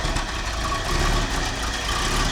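A 1972 Lincoln Continental's engine, in excellent condition, idles steadily with a smooth, continuous low rumble, close and even throughout with no voices.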